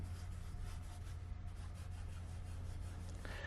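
Rhythmic close rubbing on a crumbling foam insert from a 2.2-inch RC crawler tire, a dry scuffing rasp repeating in quick strokes, with a brief sharper scrape right at the end.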